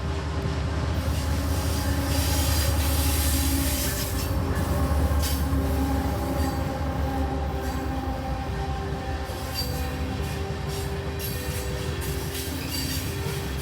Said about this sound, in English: Next was a coal train going pretty fast.